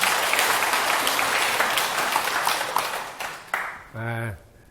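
Applause from a gathered audience at a Buddhist lecture, dense clapping that thins out and fades over a few seconds before a voice begins speaking near the end.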